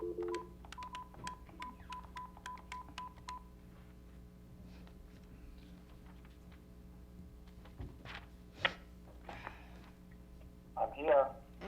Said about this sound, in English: I'm gonna get Tim back on the phone